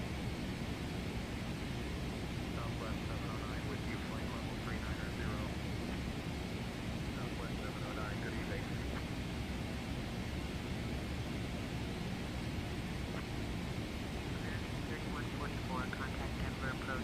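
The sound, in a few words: Boeing 777-300 airliner cruising, flight simulator video game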